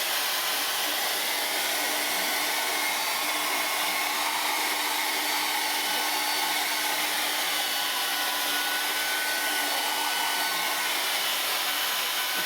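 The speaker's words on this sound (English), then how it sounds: "As you can tell, it's one noisy hairdryer." A noisy hair dryer runs steadily and loudly for the whole stretch, a constant broadband whoosh with a faint high whine, close by with no talking.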